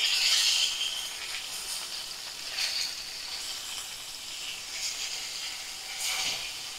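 Fish fries in a pan with a continuous bright hiss and sizzle, swelling and easing in gentle waves, close and steady with no talk.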